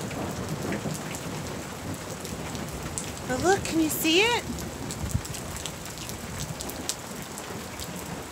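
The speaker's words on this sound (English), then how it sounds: "It's rain and it's coming down." Steady rain pours down and spatters on the ground outdoors, a constant close hiss, with a faint rumble of distant thunder; a person speaks briefly midway over the downpour.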